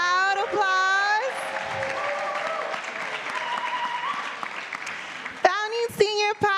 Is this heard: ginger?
no